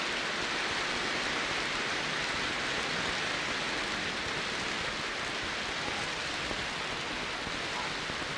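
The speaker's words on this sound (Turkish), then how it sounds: "Gördünüz mü nasıl yağmur yağıyor?" Heavy rain pours steadily, a dense, unbroken hiss of water falling on surfaces, loud and close, with no talking over it.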